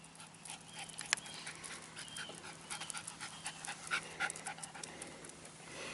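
Dog panting outdoors near the Texas coast: soft, quick, continuous breathy pants close by at low volume, rising slightly toward the end, with no talk.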